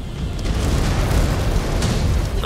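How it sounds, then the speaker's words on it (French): A Locust mech blows up in MechWarrior 5: Clans, a dense, roaring explosion with a deep rumbling boom that sustains loudly for the whole moment without talk. "Voilà, il a explosé."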